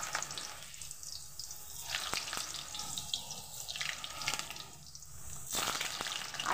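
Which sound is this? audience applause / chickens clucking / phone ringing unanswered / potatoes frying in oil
potatoes frying in oil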